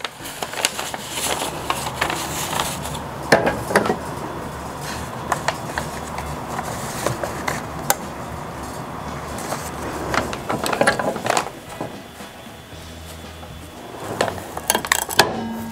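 A heat mug press clamps shut on a camp mug wrapped for sublimation, giving a series of close metallic clinks, clunks and mechanical latching sounds spread across the stretch, with no talking.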